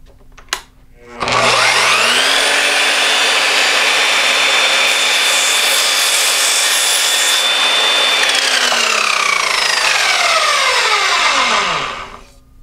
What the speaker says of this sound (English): make sure you put on your safety glasses because aluminum flies everywhere using a saw like this